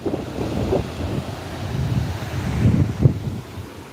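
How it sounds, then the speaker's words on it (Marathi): Gusty wind buffets the microphone in low, rumbling surges that swell and fade, with no voices present. "वारं पण सुटलेलं आहे"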